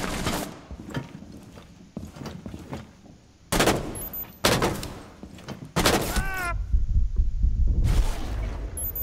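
Gunfire in Rainbow Six Siege on the Coastline map: sharp bursts of shots and rattling fire in separate volleys, some close and loud, others farther off, with a short voice in between.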